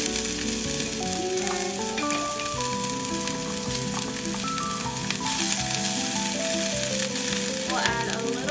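Onions sizzle and crackle steadily in a frying pan, a loud, continuous hiss with music playing over it throughout, occasionally broken by the scrape of stirring.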